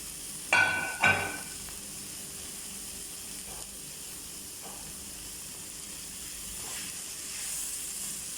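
A pan of vegetables for a quick breakfast hisses and sizzles steadily at close range, with two sharp clattering knocks near the start and faint stirring scrapes later.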